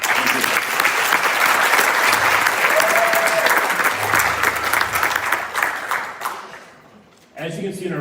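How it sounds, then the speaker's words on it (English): A concert audience applauds middle school jazz soloists and rhythm section, steady full clapping that fades out near the end, followed by a voice starting to speak. "One more round of applause."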